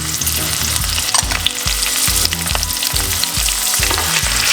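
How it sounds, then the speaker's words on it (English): White onion and spring onion fry loudly in a pan for callaloo, a dense, close sizzle over a regular low rhythmic thumping, with no voices. "stir it up, let it fry a little bit."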